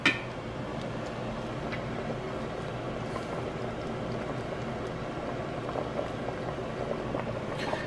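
Beans boiling in a pot, a steady close bubbling and gurgle that holds evenly throughout, with a small knock at the very start and no talking.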